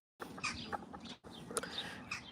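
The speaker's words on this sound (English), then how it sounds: "Bird incoming. Thought we had one landing then on the garden." A bird calls in a garden with a few short, bright chirping notes in two quick bursts. It sounds fairly faint and close to the ground.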